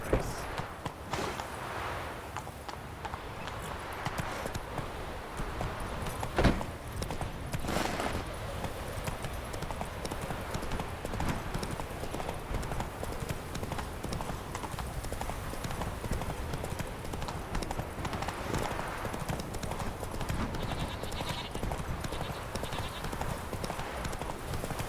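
Geralt's horse Roach in The Witcher 3 video game, steady rhythmic hoof clip-clops on the move, continuous under ambient game sound with talk.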